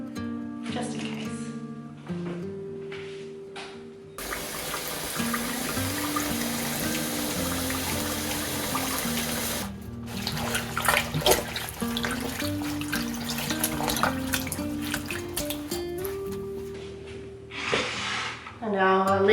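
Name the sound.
water running in sink, washing leek stems in salt water bath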